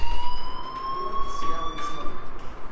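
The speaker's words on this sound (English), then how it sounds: "do you hear that fire alarm? That means you should be outside." An electronic school fire alarm sounds in the video game Life is Strange, a steady high tone holding with a pulsing rhythm underneath.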